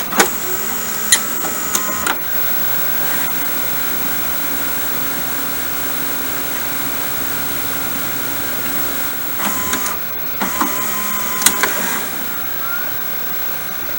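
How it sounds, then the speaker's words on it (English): A VHS tape rewinding in a VCR: a steady mechanical whirring hum runs throughout, with a few clicks and clunks at the start and near the end. "We just rewind the tape first of all."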